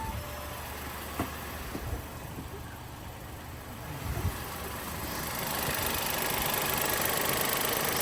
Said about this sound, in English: So engine's running smooth